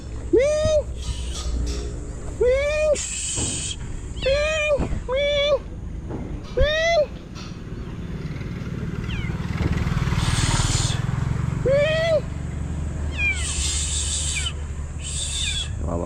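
Repeated high-pitched cat meows, several in quick succession and close by, over steady low background noise with faint voices.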